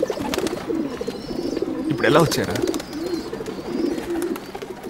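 Pigeons coo in soft, rolling, repeated calls throughout, with brief fluttering, while someone speaks over them.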